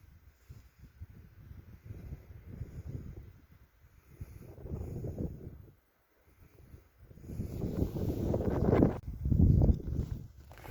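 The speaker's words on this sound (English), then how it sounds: "Oh, the wind has picked up." Wind gusts outdoors in late winter, with little snow left, buffet the microphone as a deep, uneven rumble that swells and fades in waves, with a brief lull midway and stronger gusts toward the end.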